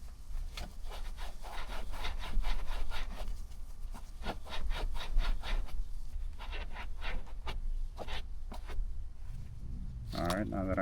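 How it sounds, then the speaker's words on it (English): Steel wool scrubs rust off a metal strut fitting on a car's rear hatch, making rapid back-and-forth rasping strokes in bursts, close and fairly loud, with some breathing or brief voice sounds near the end. "I'm gonna go ahead and take some steel wool and clean this rust off."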